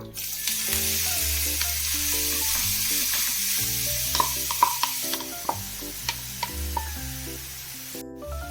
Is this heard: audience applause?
no